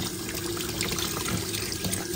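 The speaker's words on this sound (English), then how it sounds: "we got Xander here getting his bath" Tap water running steadily during a pet monkey's bath in a sink, a continuous close splashing rush with no break and no voices.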